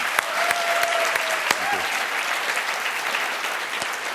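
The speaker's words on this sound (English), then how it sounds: "How about an additional round of applause for these guys?" A full room applauds Team SmartArm at the 2018 Imagine Cup World Finals. The clapping is loud and continuous, with a few sharper claps standing out and a brief voice tone early on.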